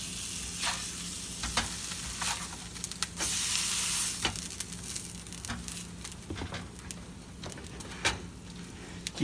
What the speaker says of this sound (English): Keep stirring it and mixing it.